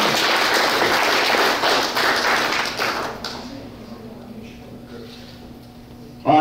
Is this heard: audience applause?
yes